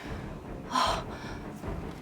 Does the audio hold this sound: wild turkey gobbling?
no